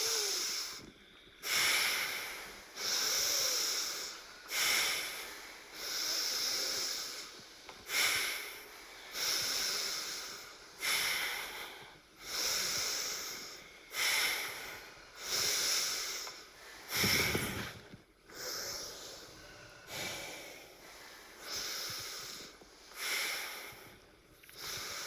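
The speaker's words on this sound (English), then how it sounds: "And then as you're ready, inhale in one more time." Slow, deep breathing from a breathwork and yoga session before meditation, with long airy inhales and exhales repeating in a steady rhythm about every two to three seconds, close and clear with no talking.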